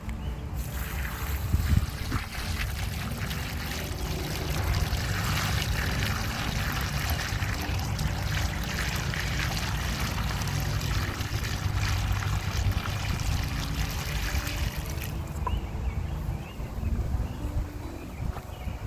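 A full bucket of water is poured onto farm soil, a steady, continuous gushing splash running for nearly twenty seconds, close and fairly loud, easing slightly near the end.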